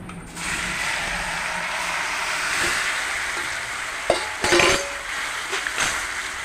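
Pieces of elephant apple tipped into a hot pan for chutney, with a steady sizzle from the start and a few sharp clacks and scrapes of stirring near the end.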